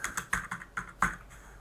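Someone types a short burst on a computer keyboard while entering text into a design program, with about eight crisp, close keystrokes in an uneven rhythm, then a brief pause.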